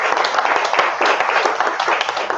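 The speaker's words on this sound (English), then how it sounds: "Please give her a warm round of applause." An audience at an energy industry event claps, a dense wash of applause from many hands that stays steady and fairly loud through the whole clip.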